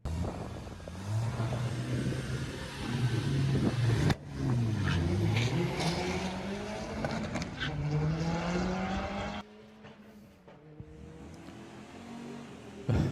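A pair of VW Sportsman drag race cars launch and race at Santa Pod, their engines screaming and rising in pitch through the gears, then fading quieter as they pull away.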